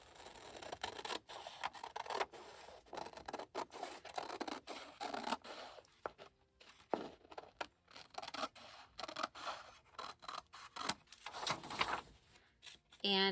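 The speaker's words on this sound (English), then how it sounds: "the first thing I want to do this time is to cut the edges off" Scissors snip the edges off a large paper tag page in a run of crisp, close cuts, with soft paper rustling and a quiet voice talking over the cutting.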